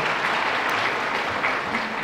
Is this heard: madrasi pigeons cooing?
no